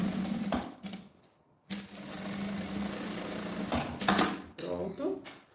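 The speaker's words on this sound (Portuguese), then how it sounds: "vou fazer uma costura, meio pé de máquina, tá? Em toda a volta." A domestic sewing machine runs in quick motorized bursts, stitching at half-foot width around a cube-shaped fabric toiletry bag. The bursts stop and start close up, and a voice talks over them in between.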